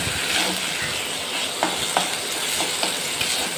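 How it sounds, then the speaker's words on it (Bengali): Soaked, drained rice frying in hot oil with whole spices for an egg pilau, a continuous soft sizzle with occasional stirring scrapes and clicks, no talking. "এবার চালটাকে ভালো করে প্রথমে ভাজতে হবে।"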